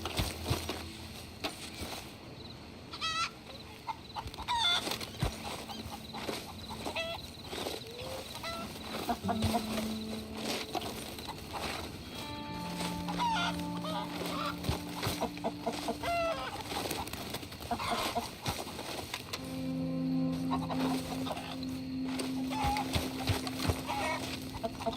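Chickens, a rooster and other fowl in the Red Dead Redemption 2 video game, with repeated clucks, honks and crowing calls at close range, some louder tonal calls near the middle and end, and occasional soft speech.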